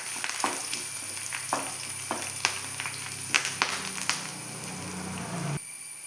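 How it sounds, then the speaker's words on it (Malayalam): Dried red chillies and curry leaves sizzle in hot oil, a steady close crackle broken by sharper pops and the faint scrape of stirring, with no voices, until the frying cuts off abruptly near the end. "ഇനി അതിലേക്ക് 2 വറ്റൽമുളകും 2 കറിവേപ്പിലയും കൂടെ ചേർത്ത് ഒന്ന് മൂപ്പിച്ചെടുക്കാം"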